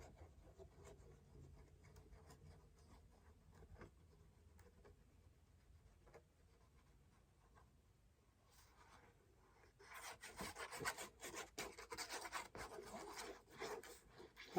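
Dried glue balls being rubbed and rolled off paper make a faint, steady scratchy rasp, swelling into louder, dense rubbing near the end.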